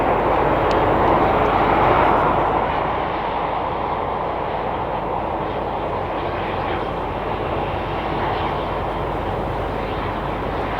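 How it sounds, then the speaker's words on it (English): An airliner takes off at Madrid Barajas Airport, a loud, sustained jet engine roar peaking early and then holding steady, broad and rumbling throughout with no speech over it. "So that means it's on its way to take off."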